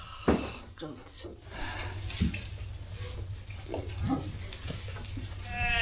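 Goats and sheep bleating now and then on a small homestead while someone talks nearby, with scattered rustling of hay and a low steady hum underneath.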